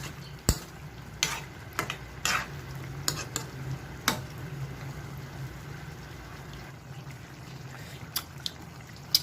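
A spoon or spatula scrapes and knocks against a pan while adobo simmers in coconut milk, giving sharp irregular clinks over a soft continuous bubbling sizzle.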